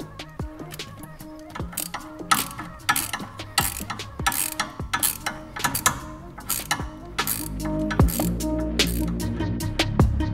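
A ratchet tightens turbo outlet pipe bolts on a Volkswagen MK6 GTI, ARM Motorsports outlet pipe: close, rapid clicking pawl bursts repeating in quick runs with short pauses, over metallic clinks and low workshop hum.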